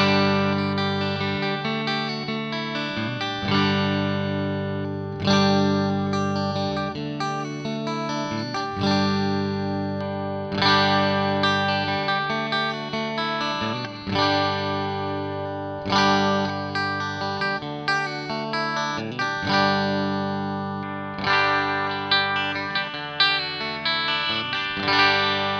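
A Tagima T635 Classic electric guitar plays through a tube amp, strummed chords and riffs ringing with reverb and chorus, shifting from clean tones to a crunchier, distorted sound.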